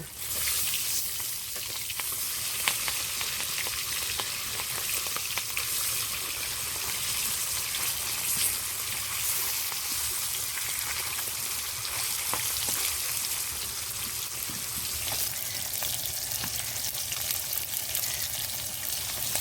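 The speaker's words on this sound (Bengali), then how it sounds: "এক পাশ ভালো করে ভাজা হয়ে গেছে তো এখন আমি উল্টে দেব" Rohu fish pieces sizzling in hot oil after being turned over, with an even loud hiss and crackle filling the whole stretch, close and without talk.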